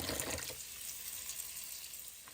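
Bunches of fresh parsley are swished and shaken in a basin of water, giving a steady close splashing wash with a few louder sloshes at the start.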